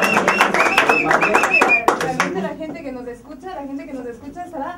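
Crowd applause welcoming a member of the Peruvian cumbia group Hermanos Yaipen in Madrid, a burst of clapping for about two seconds that gives way to someone talking.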